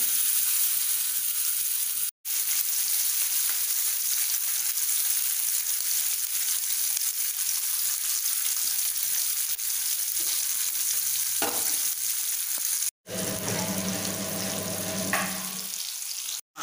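Fish fries in hot oil in a home kitchen, giving a steady, bright, close-up sizzle that runs almost without a break. Near the end a few soft clinks or stirring sounds come through the hiss, and there is no talk.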